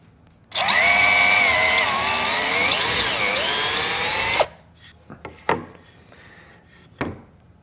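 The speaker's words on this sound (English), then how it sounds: "Then you take your drill bit," A power drill bores a hole through a wooden drawer front to fit a drawer pull, a loud steady whine of about four seconds with shifting pitch, followed by a few quieter knocks and handling clatters.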